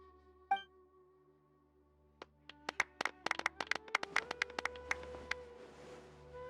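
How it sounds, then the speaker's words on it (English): Sparse in-game clapping from a small crowd at an award ceremony in Genshin Impact, a single sharp clap followed by scattered individual claps that build into an irregular cluster over a quiet music drone. "Let's give our champion Kaveh one last big round of applause."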